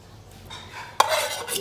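A spoon mixes boiled potatoes into a chickpea chicken curry in a pot, giving a single sharp metal clink followed by soft scraping and stirring sounds, close by with no talking.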